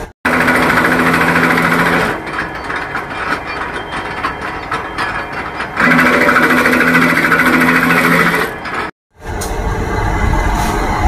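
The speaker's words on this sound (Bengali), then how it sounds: "এই যে মেশিন রয়েছে, এই মেশিনের মধ্যে বেলা হয়।" A dough-rolling machine in a chanachur snack factory runs with a loud, fast rattling mechanical drone, easing off and surging back in two long stretches before a brief cutout, with no talking.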